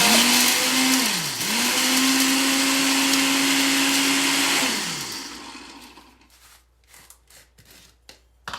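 Blender grinding tomatoes for sauce: a loud, steady motor whine that dips briefly, then holds before spinning down, followed by a few light clicks and knocks near the end.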